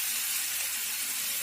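Nigella seeds, fenugreek, ginger, garlic and onion frying in hot oil in a kadai, a steady, even sizzle and hiss with no break or talk over it.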